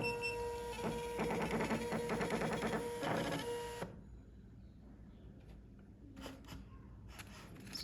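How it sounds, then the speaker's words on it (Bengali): An HQ300 thermal label printer feeds and prints stickers with a steady whirring, chattering mechanical run for nearly four seconds. It stops abruptly, and a few light clicks and rustles follow. "এটাকে আমি এখন প্রিন্ট দিচ্ছি"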